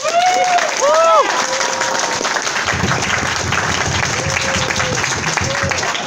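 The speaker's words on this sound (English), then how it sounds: "give them a big round of applause" A crowd at a furry convention's closing ceremony claps and cheers loudly and continuously, with whoops and shouting voices over the applause.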